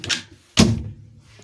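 A motorhome door being shut inside the vehicle, heard as a faint preceding rustle and then one close, solid thud with a brief rattle, followed by quiet.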